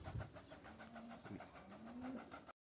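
Pigeons coo at a wooden pigeon loft in Parnaíba, Piauí, Brazil: soft, low, rolling coos repeat close by, with a faint scuffle of movement and no voices.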